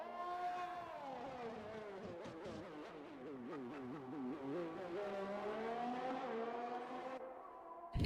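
An F1 2021 race car in a video game weaving to warm its tires at Austria, the engine note rising and falling in a steady rhythmic wobble, heard alone and fairly faint.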